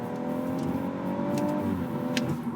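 A BMW with a B58 engine accelerates strongly from inside the car, a steady engine drone rising slightly in pitch under road noise, with no voices.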